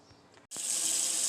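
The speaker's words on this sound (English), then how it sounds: "So, I got cold water running." Cold water from a kitchen tap switches on abruptly after a short quiet moment, then pours as a steady, close, bright hiss with nobody speaking.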